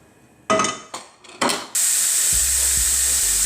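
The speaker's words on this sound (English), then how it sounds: "You just put them in the butter, slice them very thin, and put them in the butter. And you're gonna let them fry for a little bit." Thin slices of beef drop into hot butter with a few sharp clatters, then settle into a steady, loud, continuous sizzle with a low hum underneath.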